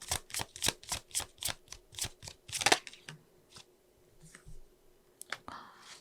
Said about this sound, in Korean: 한번 추가 카드로 뽑아보도록 할게요